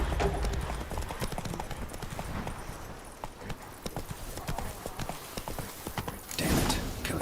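Hooves pound in a fast, continuous gallop as a horse is ridden in The Witcher 3: Blood and Wine, loud and near, with someone speaking intermittently and a burst of louder motion near the end.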